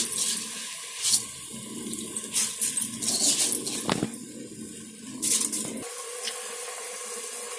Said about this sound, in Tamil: அதனால நான் இப்போ 2 டம்ளர் தண்ணி ஆட் பண்ணிக்கிறேன்